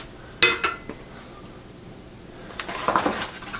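A mini non-stick egg frying pan set down on a gas stove gives a couple of sharp metallic clinks, then quiet, then a cluster of lighter clatters and knocks toward the end.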